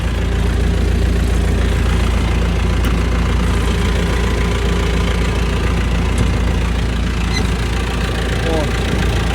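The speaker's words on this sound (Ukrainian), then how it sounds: "Тут у нас двигун." A combine harvester's heavy Perkins diesel engine idles loudly and steadily with a constant low rumble and mechanical knock, close by.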